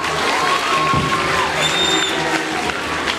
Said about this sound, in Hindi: इन मेहमानों के लिए भरपूर तालियां